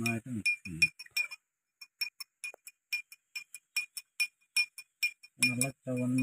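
A spoon stirs an Eno mixture in a glass, giving a rapid run of light, bright clinks against the glass, close and fairly steady, with a person talking briefly before and after the stirring.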